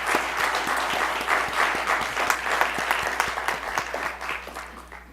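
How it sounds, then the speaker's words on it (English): An audience at an urban leadership alliance seminar gives candidates and mentors a round of applause: dense, even clapping from many hands that holds steady and then tapers off. "let's give everybody, all the candidates and mentors a quick round of applause"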